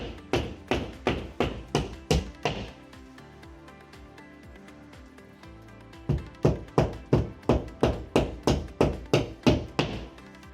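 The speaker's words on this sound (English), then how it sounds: "take a hammer, tap the mollies gently into the holes" Steady rhythmic hammer taps, sharp and close, driving molly anchors into drywall in two quick runs separated by a quieter stretch of lighter knocks.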